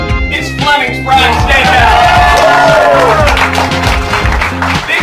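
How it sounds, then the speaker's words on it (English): A crowd at a restaurant cook-off cheers, whoops and applauds a winner, loud rhythmic clapping mixed with shouts and yells, close and sustained. "Big round of applause for everyone."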